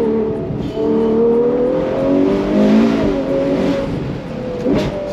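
Ferrari 812 GTS convertible with a V12 engine revving hard under acceleration, its loud, close engine note rising in pitch, dipping briefly, then climbing again.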